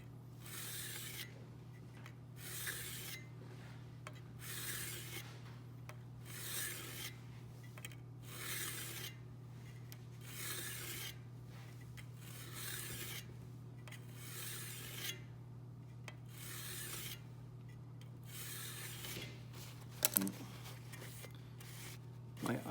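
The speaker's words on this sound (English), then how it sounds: "Now I'm just going to work the edge with this coarse diamond plate." A steel card scraper edge worked freehand on a coarse diamond plate, giving steady rhythmic rasping strokes, about twenty in a row at a regular pace, close and moderately loud over a constant low hum.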